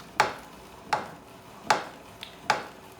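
Fresh zucchini being turned through a hand spiralizer into zoodles, giving four crisp, evenly spaced crunching clicks close up, with one faint tick in between.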